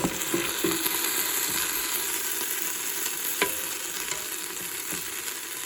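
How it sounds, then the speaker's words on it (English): Flour paste sizzles steadily as it cooks in a pan, a constant close frying hiss with a few soft stirring scrapes and clicks and no talking. "we're going to let this cook so the flour can kind of cook into and dissolve here for about 3 minutes"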